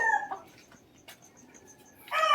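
Young chickens in a small backyard coop give soft scattered clucks and chirps, faint and close, with brief louder bursts at the start and end and no talk.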